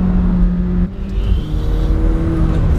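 McLaren 720S turbocharged engine pulling hard at high revs, a loud, close drone with a brief dip as a gear changes, then climbing again.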